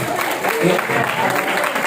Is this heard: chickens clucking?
no